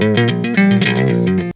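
Quick legato guitar notes with a distorted, effected tone, swelling and dipping slightly in loudness as the phrase runs on.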